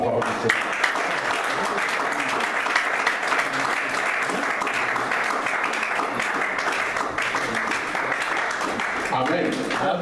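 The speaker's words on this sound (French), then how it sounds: "Acclamons pour la parole de Dieu." Church congregation applauding together, a dense, sustained burst of clapping that fills the space loudly and evenly from start to finish, with some voices mixed in.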